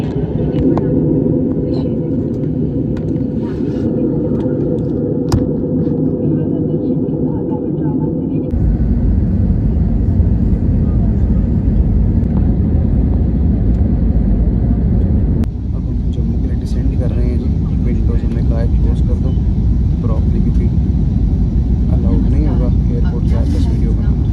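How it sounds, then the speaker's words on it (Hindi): An Air India Express passenger jet lands at Jammu, heard from inside the cabin as a loud, continuous low engine and airflow roar that shifts in tone twice, with a voice speaking over it at times. "लैंडिंग हमने कर ली है"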